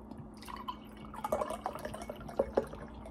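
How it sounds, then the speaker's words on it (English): Coconut water sloshes and drips from a container during drinking, small wet droplet and swallow-like sounds, close and fairly quiet, with a couple of sharper liquid plops near the end and no talk. "Drinking coconut water."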